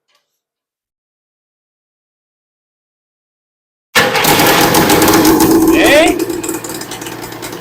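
A Terra-jet amphibious vehicle engine bursts into life after silence, settling into a loud, close, ticking run that eases slightly after a few seconds, with a brief shout over it.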